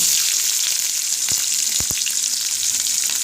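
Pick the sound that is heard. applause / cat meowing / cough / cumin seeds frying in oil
cumin seeds frying in oil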